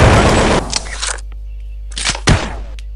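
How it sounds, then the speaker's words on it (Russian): Gunfire in a Roblox shooter game: a dense, loud burst of rapid shots, then a short lull and a few sharp, separate shots, with no talking. "Кто-то что-то стреляет"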